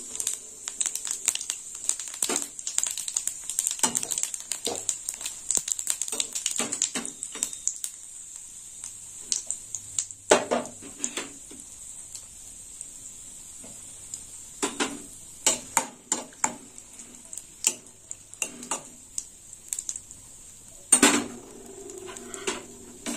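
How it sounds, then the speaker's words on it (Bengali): Dried red chillies and white cumin seeds frying in hot oil as a tempering, a steady high hiss of sizzling with repeated clinks and scrapes of a utensil against the pan, close and fairly loud, with no talking. "ফোড়নটা ভাজাবো।"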